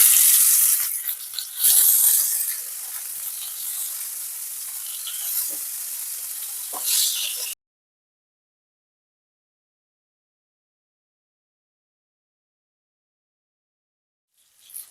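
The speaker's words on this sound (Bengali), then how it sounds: "তেল গরম হয়ে গেছে। এবার মাছগুলোকে আমি ভেজে নেব।" Bata fish frying in hot mustard oil, with a loud close sizzle and crackle for about seven seconds before cutting abruptly to silence. No one speaks.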